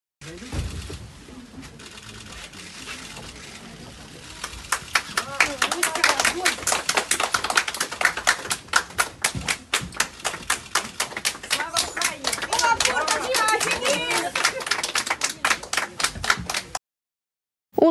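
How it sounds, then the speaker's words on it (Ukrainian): Crowd outside Moscow's Lefortovo court applauding detained Ukrainian sailors and shouting "Glory to Ukraine": quiet murmur at first, then dense, steady clapping with voices mixed in for about twelve seconds before cutting off. "затриманих присутні підтримали оплесками та вигуками «Слава Україні!»"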